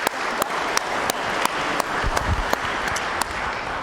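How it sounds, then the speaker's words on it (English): A church congregation claps at a traditional worship service, a moderately close, steady patter with a few sharp louder claps standing out and a brief low voice midway. "Let's give him a round of applause."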